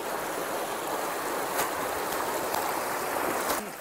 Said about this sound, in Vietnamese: Vâng, đây là suối Thanh Kim chị ạ.